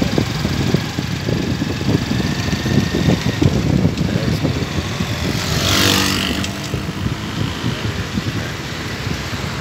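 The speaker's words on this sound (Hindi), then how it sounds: "सामने मोटरसाइकिल चल रहा है।" A motorcycle engine runs steadily close by with a continuous low rumble throughout, mixed with broadband noise and a brief hiss swelling in the middle.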